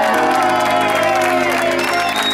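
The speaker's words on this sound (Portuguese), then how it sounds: "Uma salva de palmas para a nossa homenageada" A crowd at a birthday celebration applauds and cheers for the guest of honour, loud sustained clapping mixed with whoops and shouts throughout.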